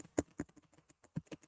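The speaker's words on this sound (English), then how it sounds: "You're just typing." Keys tap on a computer keyboard in a short, irregular burst of close, soft clicks, a few stronger strokes among them, with no voices.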